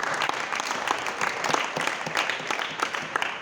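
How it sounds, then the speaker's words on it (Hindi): An audience applauds a boy during a Hindi-language religious discourse, with dense, even clapping from many hands that continues throughout. "बहुत अच्छा, ताली बजा दो बालक को।"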